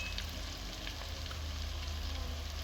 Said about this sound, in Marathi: टोमॅटो आणि कांदा छान परतून झालेला आहे.